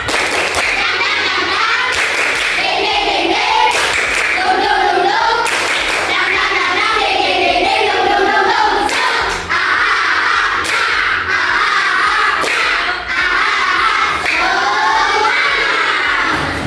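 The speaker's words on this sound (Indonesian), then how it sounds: "Tepuk semangat dulu, tepuk semangat." Schoolchildren in a classroom keep up a steady rhythmic clapping chant for the tepuk semangat, with sharp hand claps and shouted voices under a teacher's lead.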